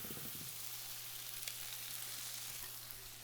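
Potatoes sizzle on a sheet pan preheated in a 400-degree oven, giving a steady, quiet hiss of frying with a low hum underneath and a faint clink partway through.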